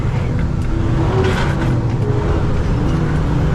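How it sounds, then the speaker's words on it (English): A flatbed truck's engine drones loudly from inside the cab during a downshift, a steady low rumble with brief shifts in pitch as the gear changes. "I'm gonna downshift."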